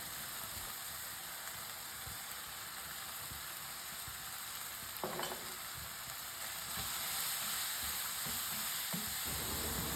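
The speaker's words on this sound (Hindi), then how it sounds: "अब इसको मसालों के साथ 2-3 मिनट के लिए इसी तरह भूनेंगे।" Lamb liver fries with spices in a pan, giving a constant sizzle broken by scraping stirs and a sharp utensil clink partway through, close and unbroken, with no voices.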